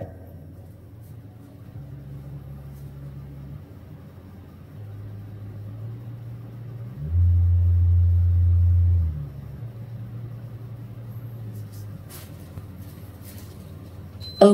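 An Edifier MP100 Plus speaker plays a subwoofer test, low steady bass tones stepping between pitches, with one louder deep tone held for about two seconds before dropping back.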